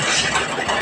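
A sewing machine running at fast stitching speed gives a dense, continuous mechanical whir and rattle, loud and close, with no pauses and no talking.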